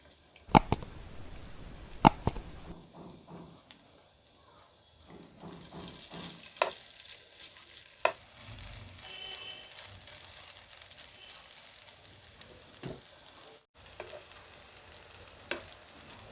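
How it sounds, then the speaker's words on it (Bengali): Small portions of noodle mixture frying in a tablespoon of hot oil over medium flame, with sharp clatters at the start, then a steady sizzle broken by a few knocks and brief pauses, no voices. "একটু গরম হলে নুডলসের মিশ্রণটি অল্প অল্প দিয়ে ভেজে নেব।"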